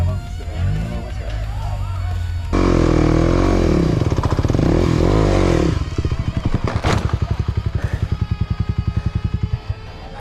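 A motorcycle engine close by, idling, then revving with loud uneven bursts, ending in rapid popping pulses.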